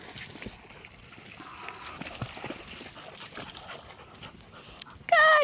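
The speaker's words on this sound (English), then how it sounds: "Good boy, Murph" A dog whimpers briefly near the end of an early-morning outdoor walk, a short, loud, high-pitched whine over a background of footsteps and rustling on the trail.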